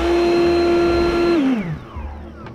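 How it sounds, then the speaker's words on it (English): Leaf blower running with a steady high whine, close and loud, then winding down as the pitch drops and the motor cuts off near the end. "Let's start with the leaf blower."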